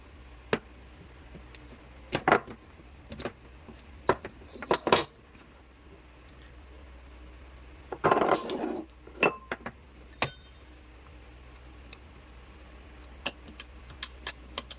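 A round sardine can being pried open for a Kerala-style sardine curry: scattered sharp metallic clicks and clinks, with a denser scraping burst midway, close up and with no talking.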